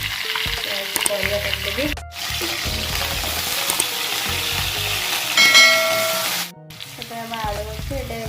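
Fish sizzles while frying in a pan in a home kitchen, a steady loud hiss with bursts of stirring and clatter, interrupted by two brief dropouts, while someone talks over it.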